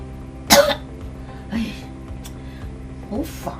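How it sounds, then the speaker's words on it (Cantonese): Several harsh, separate coughs come close and loud, the first strongest and two more following at intervals, each cough ending in a throaty rasp, with no speech between them. "咳到我食極藥都唔好嘅"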